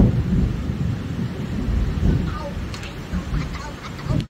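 Heavy rain roars steadily with low rumbling beneath it, and a faint voice briefly surfaces near the end over the downpour.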